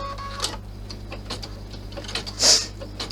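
A sewing machine stitching pieces of fabric for a large clutch, a quick run of mechanical ticking and clattering stitches, close and moderately loud, with a brief sharper whirr near the end.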